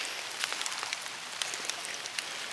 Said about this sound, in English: Only thing I can say is we're getting rained on. Badly.